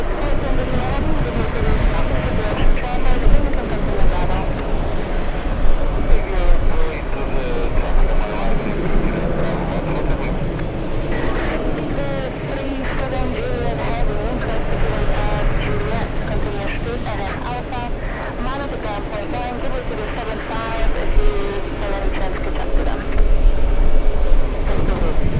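A Euro Atlantic airliner at JFK airport produces a loud, continuous jet engine roar lasting throughout, with people talking over it.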